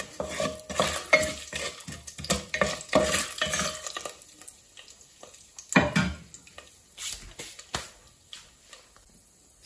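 Whole chili and spices fry in hot oil for a goat-meat do pyaza, with a steady close sizzle broken by repeated stirring scrapes and utensil clinks against the pan, busier in the first half.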